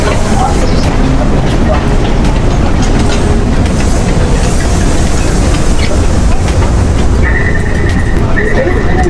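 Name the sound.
train on a Taiwan rail line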